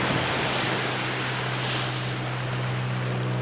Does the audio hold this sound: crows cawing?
no